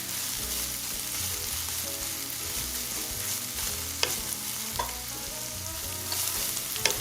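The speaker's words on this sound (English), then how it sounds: "We're gonna cook our onions for about 2 minutes, just until they soften up a little bit." White onions fry in melted butter in a pan, giving a continuous close sizzle with occasional spatula stirs and scrapes, and no talking over it.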